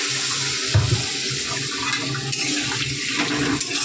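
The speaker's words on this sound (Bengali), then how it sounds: "সামান্য একটু জল দিয়ে ঢেকে দেবো।" A small amount of water is poured into a cooking pot of taro and potato, a steady close rushing pour lasting a few seconds with a slight surge near the start and no talk.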